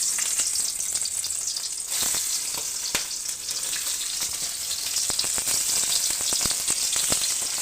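Eggs frying lightly in mustard oil in a pan, with a steady close sizzle and crackle and occasional sharper pops from spattering oil, continuous throughout with no talking.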